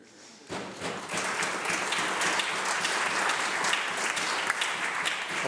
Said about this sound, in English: The other side seems to keep clapping for an answer that says nothing more than resilience